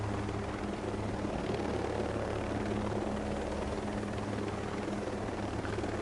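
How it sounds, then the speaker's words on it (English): A helicopter drones steadily overhead, its low rotor thump and broad engine roar holding at an even, loud level throughout with no talk. "this helicopter's kind of loud"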